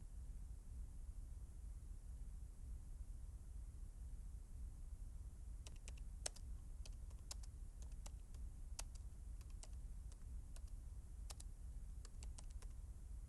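Soft clicks of keys being typed arrive in an irregular, light patter over a faint steady hiss, quiet and close, with no speech.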